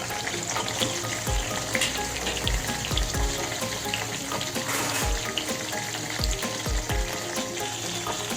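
Potato and tomato frying in a pan for a purple cabbage dish, a steady loud sizzle throughout with several low thumps and scrapes as the food is stirred; no one talks.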